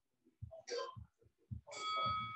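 A bell rings during a HIIT workout session, one short ding followed by a sustained ringing tone near the end, with low thuds and movement noises between.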